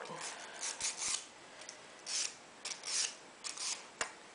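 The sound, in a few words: sanding a wooden piece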